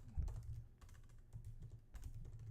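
Quiet keystrokes on a computer keyboard during an office software session, a few soft, close, irregular taps over low room hum, with no speech.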